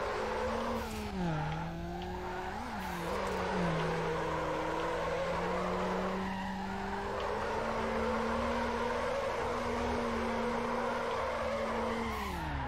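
A Mazda MX-5 races downhill in Need for Speed Underground, its engine droning steadily with shifting pitch through gear changes while tires squeal continuously through the corners.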